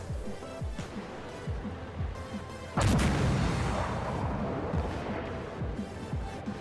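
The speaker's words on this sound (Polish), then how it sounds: "Tutaj pierwsze nieśmiałe wystrzały." Tanks trade fire in Armored Warfare, with scattered distant thumps giving way to one loud, sharp cannon blast followed by a long rumbling decay and more muffled impacts.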